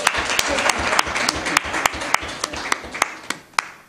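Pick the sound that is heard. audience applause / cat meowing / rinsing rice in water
audience applause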